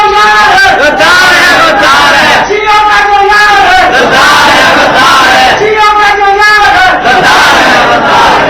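A large crowd at a 1990 religious gathering in Bagra, Haripur Hazara, Pakistan chants slogans in loud, rhythmic repeated bursts, near and overwhelming, with voices roaring in unison.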